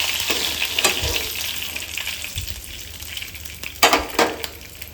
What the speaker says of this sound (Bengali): আরও ভাজতেছি সরিষার তেলে।